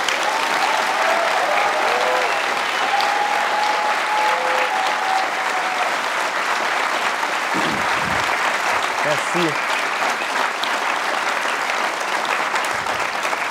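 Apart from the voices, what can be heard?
audience applause for Jay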